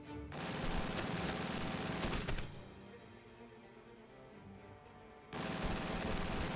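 MG42 and quad-mount machine guns in a real-time strategy game fire long, rapid rattling bursts. Two heavy stretches of automatic fire are split by a quieter gap of distant shots, and no one speaks.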